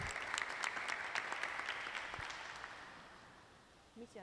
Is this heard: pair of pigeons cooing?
no